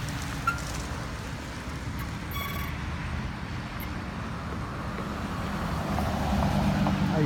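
Passing road traffic at an access road heard from a bicycle, a steady wash of tire and engine noise that builds toward the end as a vehicle draws closer.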